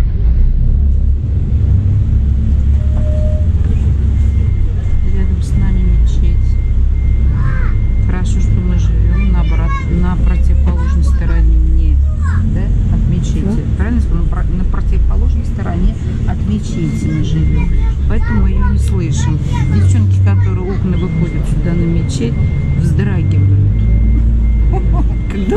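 A car drives along a road to the beach in Dubai, with a loud, constant low road rumble and engine drone from inside the cabin, and voices heard at times.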